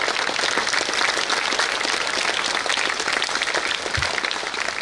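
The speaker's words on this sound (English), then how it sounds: "May I ask all the students to give a loud applause" Students give parents a loud, sustained round of applause at a school Founders Day celebration, with thick, even clapping from a large group that holds steady throughout.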